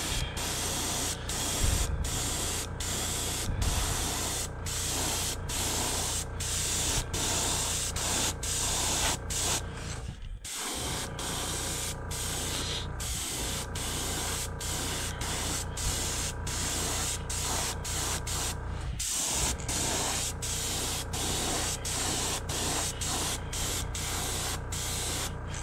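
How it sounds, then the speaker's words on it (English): An airbrush sprays pearl white paint onto a primed crappie fishing lure, a loud, close, continuous hiss with brief cut-offs as the trigger is released, about three bursts in all. "we're going to spray this down with some pearl white, wicked pearl white"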